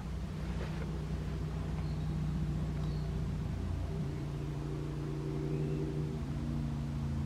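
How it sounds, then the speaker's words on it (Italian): Distant engines of motorcycles and cars drone and hum faintly but steadily from far off near a church in the woods, a low continuous traffic rumble with gently shifting tones. "si sentono dei motori da lontano, ma sono moto e macchine in lontananza"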